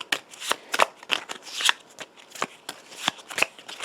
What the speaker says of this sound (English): we're going to shuffle up her draw deck